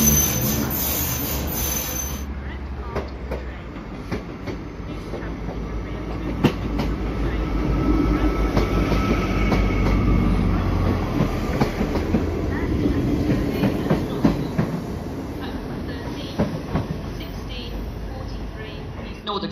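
A Northern train pulls into a platform at a Manchester station, its low rumble and rail clatter building steadily and filling the scene, while station announcements sound over it.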